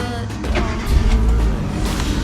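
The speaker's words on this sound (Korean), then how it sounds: "시동을 걸어서 정상 작동되는지 확인해 볼게요." Car engine started and left idling right after the accessory drive belts (air-conditioning and alternator belts) were replaced, a close, loud steady rumble with faint clicks and no talk.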